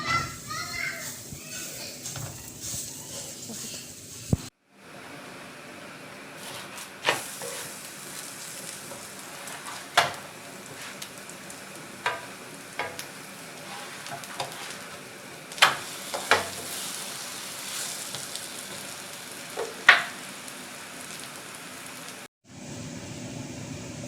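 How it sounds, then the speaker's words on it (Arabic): Semolina rghaif flatbreads frying in a pan, with a continuous soft sizzle, occasional sharp clatters and scrapes of handling, and a couple of abrupt breaks in the sound. "ونهزوها نحطوها في المقله ديالنا"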